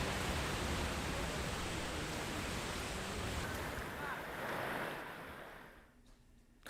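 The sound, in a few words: strong floodwater flowing over a submerged bridge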